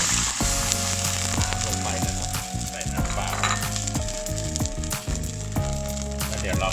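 Garlic frying in oil in a wok gives a steady, loud sizzle that runs throughout, with occasional stirring clinks and tonal background music.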